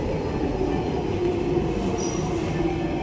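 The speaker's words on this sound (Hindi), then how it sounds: "ये यहाँ का मेट्रो," A Singapore metro train at the Changi Airport station, a steady enclosed rumble with a faint wheel whine and a short high squeal, heard continuously and close.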